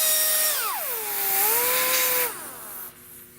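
A die grinder sands a car dash pillar panel during auto body restoration, its loud, close whine swooping down in pitch under load, holding, then cutting off and spinning down near the end.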